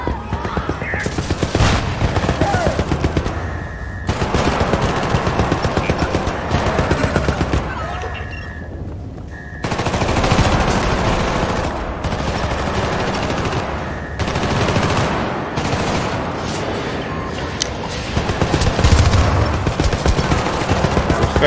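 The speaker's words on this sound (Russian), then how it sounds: "Турель на нас работает." A turret unloads automatic machine-gun fire in the video game Syndicate, sustained bursts of rapid shots with booming impacts, loud and dense for most of the stretch with brief lulls.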